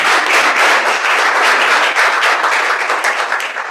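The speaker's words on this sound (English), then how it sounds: "Je voudrais que vous applaudissiez une fois encore." A youth summit audience bursts into loud, sustained applause, dense clapping filling the room evenly and close up for the whole stretch.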